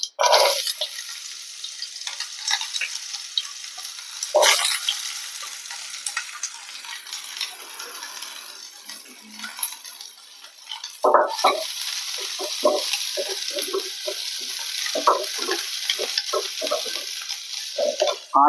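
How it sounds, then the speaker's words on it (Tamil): Mustard seeds splutter and onions fry in oil in a Tamil home kitchen, heard as a dense sizzle broken by sharp popping bursts and stirring scrapes that grow busier in the second half, with no talk. "இப்போ பாருங்க பொரியிற சட்டை கேட்குதுங்களா கடுகு எப்பவுமே நல்லா பொரியணும்"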